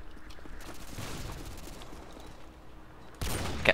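Gunfire in the video game Modern Warfare 2 on PC, a faint scattered crackle of shots at a distance, followed by a sudden louder close burst near the end.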